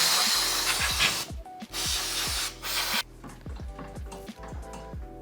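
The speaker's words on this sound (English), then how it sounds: "we're going to give them a good spray" Two long bursts of loud, steady hissing aerosol spray onto a Ford Focus Mk3's rear suspension bushes, separated by a short pause, over a low mechanical hum with faint knocks.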